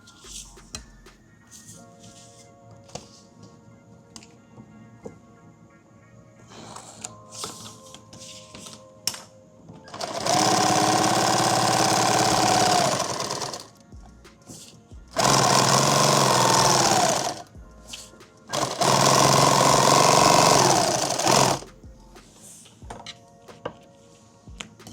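A sewing machine stitches a six-magazine active shooter bag in three loud, steady bursts of a few seconds each, separated by short pauses filled with faint handling noise.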